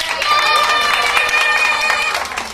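An audience breaks into brief, fairly loud applause and cheering, a dense burst of clapping mixed with crowd voices that swells and tapers off.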